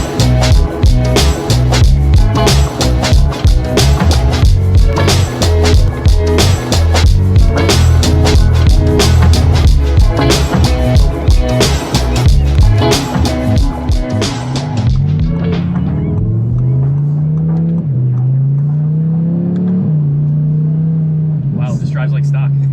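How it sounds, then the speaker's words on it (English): A 1400-horsepower turbocharged Audi R8 roars loudly as it accelerates hard, pitch climbing through several gear changes, with a brief hissing burst of the turbo wastegates near the end. "Hear the subtle wastegates of the turbos there."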